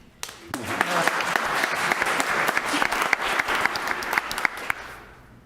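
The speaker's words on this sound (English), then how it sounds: "We can clap for her." An audience at a school committee meeting applauds warmly, with dense, sustained clapping from many hands that swells and then tapers off.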